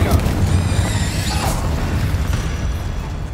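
A heavy booming blast from the Bombarda spell erupts in Hogwarts Legacy, loud and close, with a rumbling low tail and crackling debris fading over a few seconds.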